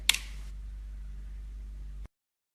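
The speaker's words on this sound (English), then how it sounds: "I'm going to cock the shutter." A single sharp mechanical click right at the start as a 4x5 large format film camera shutter is cocked, followed by a steady low hum for a couple of seconds, then silence.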